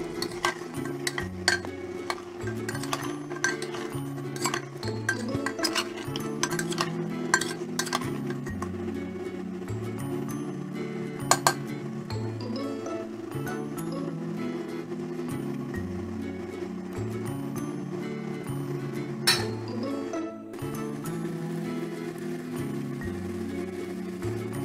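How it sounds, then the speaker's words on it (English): Mutton curry ingredients sizzle on high heat in a pan, with steady frying hiss under frequent metallic clinks and scrapes of a spoon stirring against the pan, close and continuous throughout. "Fry all the ingredients on high heat at least for"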